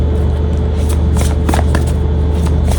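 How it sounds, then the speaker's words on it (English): Tarot cards shuffled by hand, a dense continuous riffling and rustling, close and loud, with a steady low rumble beneath. "so now I'm gonna get shuffling"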